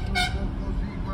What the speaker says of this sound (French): Le klaxon aussi, écoutez ça.